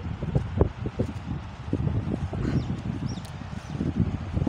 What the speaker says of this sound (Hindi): हवा बहुत तेज़ चल रही है यहाँ पर।